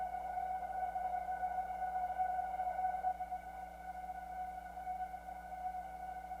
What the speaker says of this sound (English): Fat wide pads.